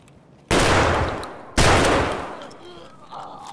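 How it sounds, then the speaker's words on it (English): Two loud, close gunshots ring out in the shooter game Escape from Tarkov, each a sharp blast with a long decaying echo, spaced about a second apart. "He just shot at him."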